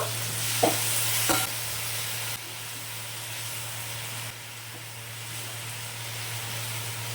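Aloo paneer masala being stirred and sautéed with a splash of hot water in a pan, a steady close sizzle and hiss with a couple of scraping stirs near the start.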